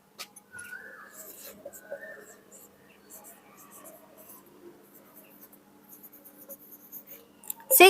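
Pen-on-paper scratching from someone writing numbers out in words for a maths exercise stays faint and intermittent, with soft quiet talk and a louder rustle at the end.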